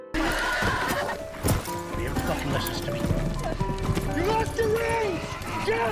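A horse neighs with a rising, wavering whinny toward the end, along with hoof clip-clops and movement noise, all under continuous talking.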